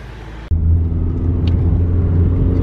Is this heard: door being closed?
no